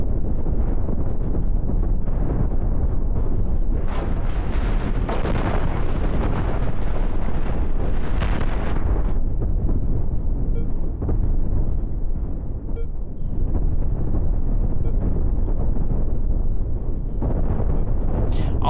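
Ship cannons firing in a space battle in the game Cosmoteer, a dense, continuous roar of booming shots and rumbling blasts, loud and sustained throughout.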